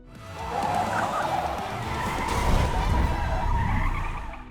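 A black car ramming a van that rolls over, heard as a loud, close skid and scraping roar swelling into a heavy rumbling impact, with no speech.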